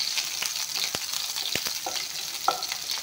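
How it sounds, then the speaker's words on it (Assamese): Chopped garlic and onion fry in a pan with whole spices, giving a steady close hiss with a few sharp utensil scrapes and clicks as they are stirred. "নহৰু পিঁয়াজখিনি অলপমান ভাজি ল'ম"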